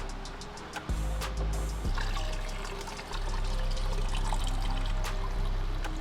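Old coolant drains out of a 2020 McLaren GT, a steady close trickle of liquid splashing into a container with a few soft knocks and no talking.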